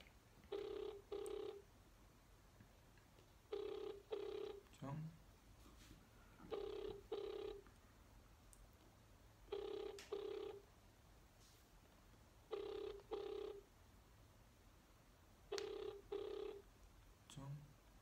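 Telephone ringback tone heard over the line while waiting for a restaurant to pick up: six evenly spaced double rings, faint and distant, with low background noise between them.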